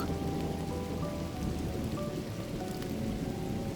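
Steady rain pours down continuously, a dense even hiss of drops drumming on surfaces with a faint low rumble beneath, close and unbroken for the whole stretch.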